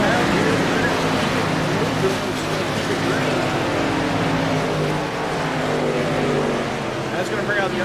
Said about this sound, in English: I forgot to go in and turn down the engine sound back